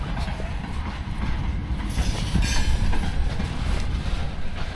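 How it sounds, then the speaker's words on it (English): A freight train rolls along the rails nearby, a dense continuous rumble of wheels and rattling cars with faint clacking and squeal, loud and steady for the whole stretch, with no one talking. "There's a train. Don't know where it's going,"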